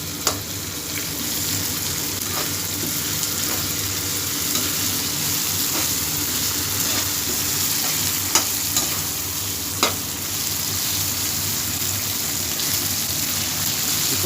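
Tomatoes sizzle and fry steadily in a pan of hot oil for a Hyderabadi mutton dum biryani, with occasional stirring scrapes and clinks rising over a constant close hiss.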